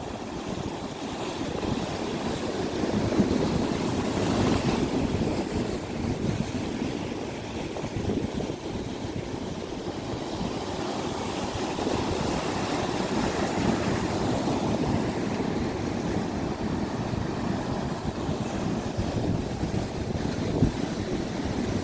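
Strong waves slap and pound against a small boat out at sea, a steady rough wash of water and wind noise filling the whole stretch without letup.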